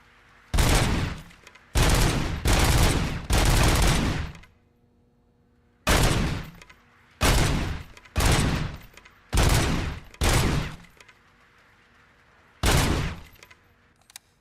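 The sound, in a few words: gunfire in video game RoboCop: Rogue City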